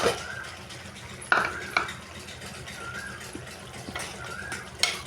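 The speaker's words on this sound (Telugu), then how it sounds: "ఇప్పుడైతే మామిడికాయ ముక్కలు అయితే వేసుకుంటానండి." Raw mango pieces go into a pot of tomato vada curry and get stirred, with utensil clinks and scraping against the pot in a few sharp knocks over a soft simmering background, plus brief speech.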